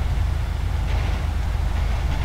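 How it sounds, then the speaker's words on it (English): A train rolls past in the video game GTA 5, giving a loud, close, continuous low rumble with a rhythmic rattle of wheels, and no talking. "Here comes a train."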